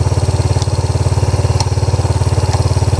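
A Suzuki DRZ125 dirt bike's engine idles close by with a fast, even, loud putter, held high by a lean pilot circuit on a China-made carburetor, with faint metallic clicks above the drone.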